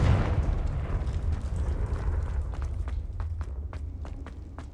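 A Confringo spell explosion in Hogwarts Legacy booms loudly at the start, then rumbles and fades, with a few sharp pops and crackles near the end.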